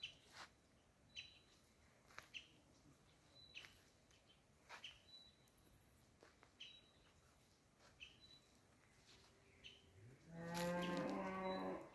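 Cows arriving at their shed on a calm, quiet day: after scattered faint chirps and soft knocks, one loud, close, drawn-out moo rings out near the end.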